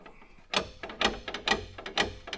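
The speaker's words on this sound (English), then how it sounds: "I think that's the spider gears binding up" Spider gears inside a worn Jeep YJ differential bind as the axle is turned by hand, giving a series of close, dry metallic clicks and grinding ratchets in irregular bursts with no talk.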